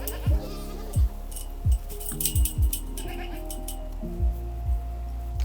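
Goats bleat repeatedly nearby, about eight short, wavering cries at irregular intervals, with other farm noise in the background.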